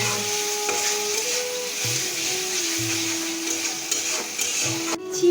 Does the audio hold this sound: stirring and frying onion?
yes